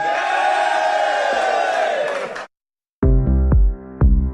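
A group of lads in a radio studio lets out a loud roaring cheer that cuts off abruptly. Then, after a short silence, a burst of low booming studio jingle or music follows.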